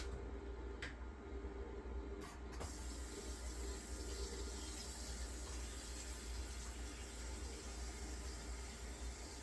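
Hot water runs from a tap into a cooking pot, a steady rushing pour heard close, with a couple of faint clicks early on.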